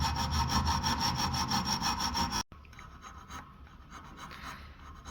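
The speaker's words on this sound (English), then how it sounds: "just got his triangular file here and just filing out to the scribe marks that he's" A triangular file rasps out a dovetail on a Winchester 1892 rifle barrel, close and rhythmic with rapid back-and-forth strokes that stop halfway through, leaving softer scraping and handling noise.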